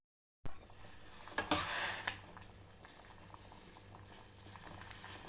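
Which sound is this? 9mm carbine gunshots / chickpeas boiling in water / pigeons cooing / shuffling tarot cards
chickpeas boiling in water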